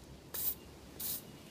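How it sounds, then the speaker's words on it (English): Gun cleaning spray blasted into the barrels of a Beretta shotgun, two short sharp aerosol hisses about half a second apart, close and clean against a quiet room. "And then I give it another quick little spray in the barrels."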